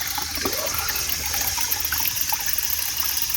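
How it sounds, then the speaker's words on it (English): Water running steadily through a DIY 3D-printed hydroponic NFT system, a continuous close trickling and gushing flow heard alone with no voices. "So you can hear the water running right now."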